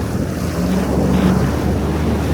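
Mediterranean Sea waves and wind out at open water, a continuous loud roar of surf and gusting wind noise buffeting the microphone, with no voices.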